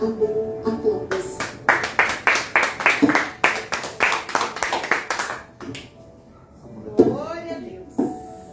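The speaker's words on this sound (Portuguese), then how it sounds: "Aplausos." A short burst of rhythmic hand clapping from a small group at a church service, followed by a voice speaking and a few scattered claps.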